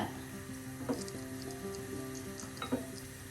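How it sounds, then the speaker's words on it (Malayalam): Fennel seeds, cinnamon sticks, cardamom and cloves sizzle in hot coconut oil for a Kerala mutton curry, a steady low crackle with a couple of brief louder pops, near and alone with no talking. "ഇത്രയും ചേർത്ത് ഇതൊന്ന് മൂപ്പിക്കാം"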